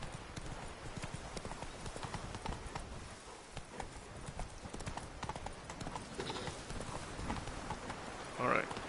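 Hooves of Roach, Geralt's horse in The Witcher 3, clip-clop in a steady trotting rhythm throughout, close and fairly loud over game ambience, with a brief louder sound near the end and someone talking over it.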